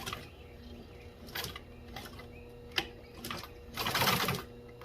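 A commercial automotive upholstery sewing machine fitted with a carpet binder makes a couple of quick locking stitches, heard as faint, brief bursts of mechanical chatter over a quiet room.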